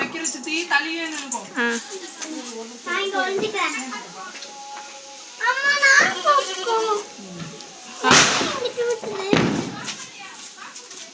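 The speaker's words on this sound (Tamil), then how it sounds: "பட்டாசு வைக்கிறதுக்கு பயந்து நம்மளோட ராஜா எங்கேயும் நிற்கிறாரு பாருங்க" Firecrackers burst at a family Diwali celebration with sharp, loud cracks around the eight- and nine-second marks, while children chatter and shout excitedly throughout.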